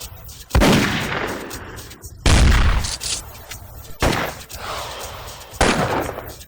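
Four separate single gunshots from the video game Dark Apes ring out at spaced intervals, each a loud sharp crack followed by a fading echo tail.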